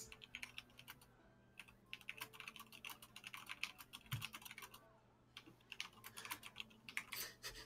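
Rapid typing on a computer keyboard, dense bursts of clicky keystrokes broken by two short pauses, fairly faint and close, with no talking.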